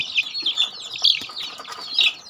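Domestic chickens in a home-style backyard coop, with bright clucks and chirpy calls overlapping continuously at moderate distance and no talking.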